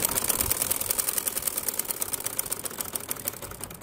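Sewing machine stitching the round neckline of a kameez, a fast, steady mechanical clatter of needle strokes, close and continuous with no talking.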